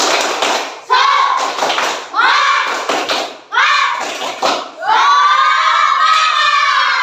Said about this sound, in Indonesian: yuk kita tepuk lagi yuk